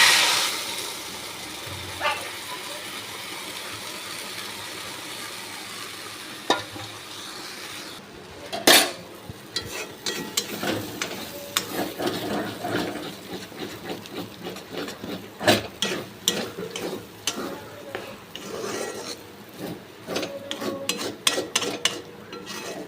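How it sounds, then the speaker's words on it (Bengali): A spoon scrapes and clinks inside a wok as a dhokar dal mixture is stirred slowly over low heat, with sparse taps early and busier, sharper metal knocks later and no voices. "এবার কড়াইয়ের মধ্যে এই মিশ্রণটা দিয়ে দেবো, দিয়ে আস্তে আস্তে হালকা আঁচে নাড়তে থাকবো।"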